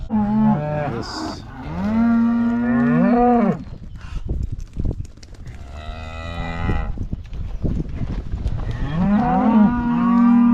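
Cattle on a farm, including calves with pinkeye, moo repeatedly and loudly nearby, with long drawn-out lows overlapping one another and brief shuffling noises between calls.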